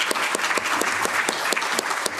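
An audience at an Anti-Poverty Day gathering clapping, a dense steady round of applause from many hands, close and fairly loud throughout.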